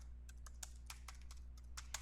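Fingers tap out a short burst of keystrokes on a computer keyboard, quick, light, uneven clicks over a low steady hum.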